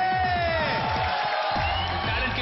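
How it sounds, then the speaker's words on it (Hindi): A studio audience at a televised talent show cheers and whoops loudly and continuously, with musical tones running underneath. "जोरदार तालियां हो जाए आपकी फेवरेट किरण खेर और मेरी किरणों के लिए"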